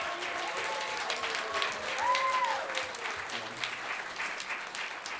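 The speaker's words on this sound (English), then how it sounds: "can we just get another round of applause for our wonderful seniors?" Audience at a university a cappella concert applauds its seniors, a steady round of clapping heard from within the crowd that carries through the whole stretch with a few brief voices and a whoop mixed in.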